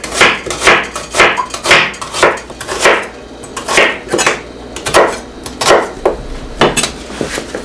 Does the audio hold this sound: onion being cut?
yes